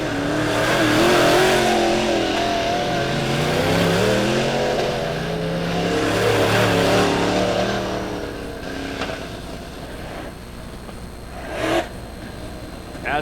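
Dirt track race cars roar around Lebanon Midway Speedway in a heat race, loud revving engines with rising and falling pitch as the pack passes, fading to a quieter rumble with a few sharp bursts.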